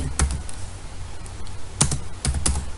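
A command is typed on a computer keyboard in scattered clusters of crisp, close key clicks over faint background hum, with no talking.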